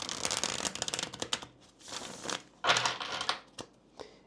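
Tarot cards being shuffled by hand in quick riffling bursts, several papery flurries separated by short pauses, close and fairly loud.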